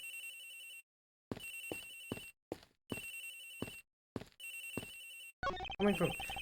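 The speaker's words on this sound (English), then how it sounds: "Agent Hicks's phone is ringing from somewhere, sir." A telephone rings in a video game in repeated electronic bursts separated by short gaps, loud and close, with a voice beginning to speak near the end.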